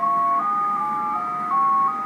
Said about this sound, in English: I thought it was multiple frequency shift keying. It sure sounds like it.